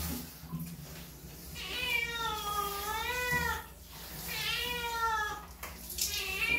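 A cat named Asyong meows during a bath with plain soap and shampoo, giving two drawn-out, wavering meows close by, each lasting a second or two.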